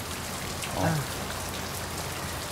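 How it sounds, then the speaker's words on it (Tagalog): Steady rain falls on a surface, making a dense, even hiss that holds throughout, with a brief faint voice in the background. "Magpatila ka muna ng ulan. Ulan pa eh."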